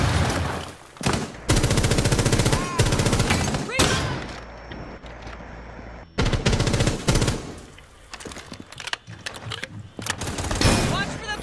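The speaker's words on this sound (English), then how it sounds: "She got me with that SMG." Rapid submachine gun bursts from a video game rattle loudly in long sustained volleys, broken by short pauses, with gameplay sounds around them.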